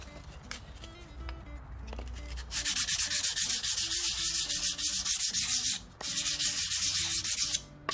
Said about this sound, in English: Real quick surface sanding of that. Helps to have a sanding block.